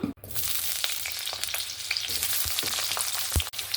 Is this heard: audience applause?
no